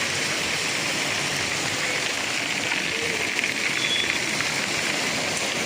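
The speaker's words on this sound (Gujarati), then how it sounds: "મસ્ત વરસાદ આવે છે." Heavy rain pours steadily in a broad, even hiss with no breaks, moderately loud and close, with no voices.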